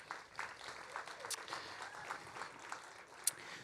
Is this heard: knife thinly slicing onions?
no